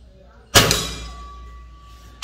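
A pellet from a Gamo Whisper Fusion IGT 5.5 mm air rifle strikes a metal plinking target at 20 metres with one sharp metallic clang that rings on and slowly fades.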